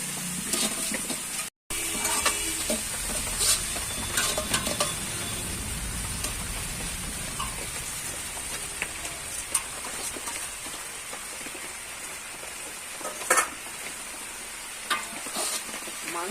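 Vegetables frying with spices in a pan give a steady, quiet sizzling hiss with occasional small crackles and scraping stirs throughout.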